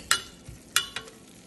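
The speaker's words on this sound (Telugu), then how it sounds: "కొంచెం ఇంగువ వేసాక దాన్ని అలా కలిపేసుకొని లైట్గా ఫ్రై అయ్యాక" A spoon scrapes and taps inside a pan as asafoetida is stirred and lightly fried for menthi pappu, giving three or four sharp metallic clinks over a faint, quiet sizzle.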